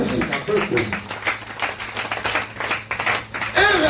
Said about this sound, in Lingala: Acclamez très fort pour la gloire